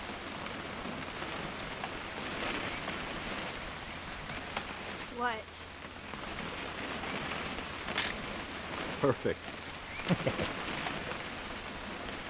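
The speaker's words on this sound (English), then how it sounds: "It's gonna rain the whole weekend, isn't it?" Steady rain patters in the video game What Remains of Edith Finch, a constant hiss of drops on surfaces during a camping scene, with a few brief voices and small sounds over it.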